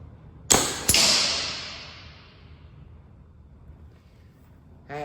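A Remington Mammoth .22 airgun fires a pellet at a target at 50 yards, a sharp close crack followed a moment later by a second report that decays slowly into quiet, then a brief noise at the end.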